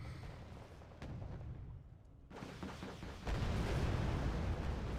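Bombs drop and explode in the real-time strategy game Wargame Red Dragon: a few faint, muffled blasts and rumbling bursts, with a heavier, sustained barrage in the final seconds.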